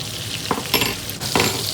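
Pork chops sizzle and crackle loudly in a frying pan, with steady frying hiss broken by a few sharper bursts as the meat is moved, close up and with no talk.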